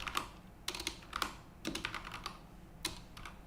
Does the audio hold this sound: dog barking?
no